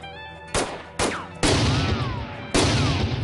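Gunfire in the PSVR Western shooter Hopalong: The Badlands, with four sharp, loud shots spaced irregularly over a few seconds, each leaving a ringing tail over a steady game background.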